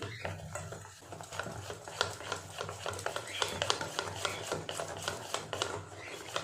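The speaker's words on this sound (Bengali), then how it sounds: "এইভাবে বেশ কিছুটা সময় নিয়ে খুব ভালো করে ডালটাকে ফেটিয়ে নিতে হবে" Lentil batter for fritters being whisked by hand in a bowl, a quick run of rhythmic scraping and tapping strokes that carries on steadily at moderate volume.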